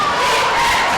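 A crowd at a high school basketball game, Stanley vs. New Town, yells a loud sustained cheer in a gym, a dense wall of massed voices filling the whole moment.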